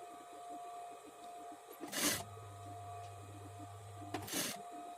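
Sewing machine stitching a blouse lining: two short whirring bursts of stitching, close and fairly quiet, separated by a faint low hum in an otherwise still room.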